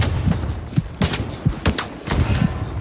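Gunfire from the video game Call of Duty Black Ops 6: several sharp, loud shots in an irregular rhythm over a busy game-audio background, close and punchy.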